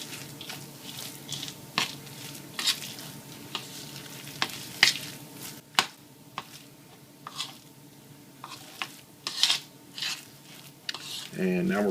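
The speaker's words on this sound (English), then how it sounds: "Mix this together." Banana oat cookie dough with pecans being stirred in a bowl, a series of soft scraping and sticky thuds at an irregular pace, close and fairly quiet with no talking.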